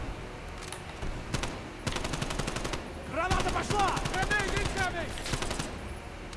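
Rapid automatic gunfire from Call of Duty: Black Ops Cold War, loud bursts of machine-gun fire with steady rattling volleys and crackling effects throughout, with no speech over it.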